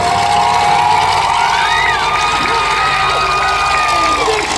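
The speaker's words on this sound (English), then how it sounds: "Oh, this crowd is going nuts." A packed grandstand at a monster truck show in Swedesboro, New Jersey, cheers loudly and continuously, with whistles and shouts riding over the roar of the crowd.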